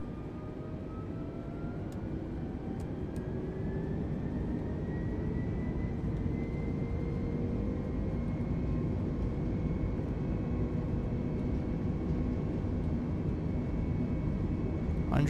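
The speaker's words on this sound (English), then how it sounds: "lined up now with runway 24, and we've been cleared for takeoff. Setting thrust" Airliner engines spool up to takeoff thrust in Microsoft Flight Simulator 2020, a steady loud roar with rising whine tones building over the runway roll, continuous and without talk.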